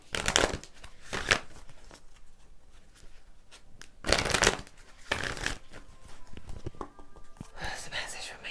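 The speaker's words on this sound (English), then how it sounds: "let me get a moon card for you" Tarot cards being shuffled in several loud, close bursts of riffling and flicking, separated by quieter gaps with soft handling noise.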